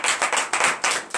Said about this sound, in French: Donnez l'acclamation à sa parole.